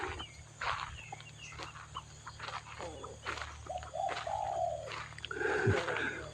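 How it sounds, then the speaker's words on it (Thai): Birds cooing and calling repeatedly outdoors at a temple in Lampang, Thailand, with several overlapping calls and chirps at moderate distance over a steady low background hum. "นกร้องกุ๊กกุ๊กกุ๊กกุ๊ก"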